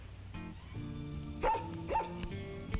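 A cartoon dog gives a few short barks and yips in quick succession, fairly close and clear, with no talking.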